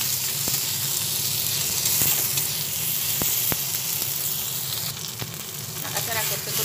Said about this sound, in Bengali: দিয়ে মাছের মাথাটার সঙ্গে একসঙ্গে